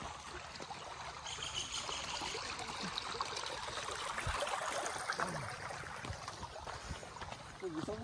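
Floodwater runs across a road in a faint, continuous rushing trickle, with indistinct voices murmuring in the background.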